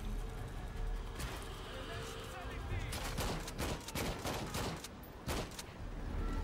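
Gunfire in the video game Shadow of the Tomb Raider, a rapid series of sharp shots in bursts over jungle ambience, with a person talking over the action.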